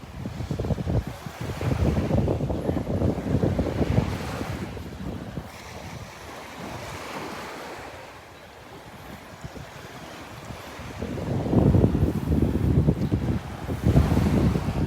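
Breezy wind roars across the microphone on a Gulf beach at Delnor-Wiggins, with surf washing in beneath, loud and continuous with swelling gusts and a calmer stretch midway, no talk.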